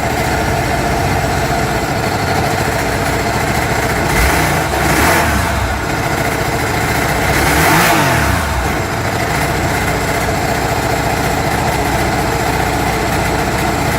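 An engine with one cylinder deliberately dropped runs steadily, then revs up in two distinct accelerations around the middle before settling back to an uneven idle, loud and close with no talk.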